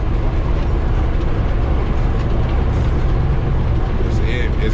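Peterbilt truck with a VGT turbo engine, running empty down the road, heard from the driver's seat as a steady, loud low rumble of engine and road noise with a faint voice briefly underneath.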